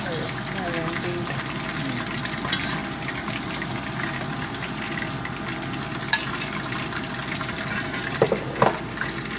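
Chicken for sweet and sour chicken fries in hot oil, a steady bubbling sizzle with a few sharp clinks near the end, while voices talk over it.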